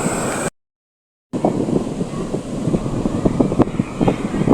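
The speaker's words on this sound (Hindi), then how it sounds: "बहुत ही तेज़ हवा चल रही है यार" Loud, rough wind buffeting the microphone outdoors at Hawke's Bay, Karachi, a constant roaring rush with gusty bursts, briefly cut to silence near the start.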